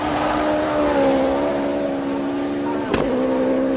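Devin Robertson's race car climbs the Simola hill climb in South Africa, its engine a loud, sustained drone that shifts in pitch as it revs, with a sharp crack near the end.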